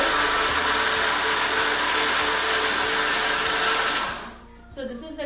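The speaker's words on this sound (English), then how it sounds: "Now this mixture I have put into the mixie and I am grinding it." Mixie grinder in a home kitchen blending soaked vada paste, a loud continuous whirring motor for about four seconds that then cuts off, leaving brief clattering.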